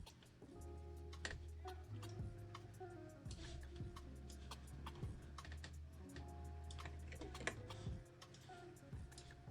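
Steady, light clicks of a computer mouse come at an irregular pace during 3D modelling work in Blender, with a low hum running underneath and no speech.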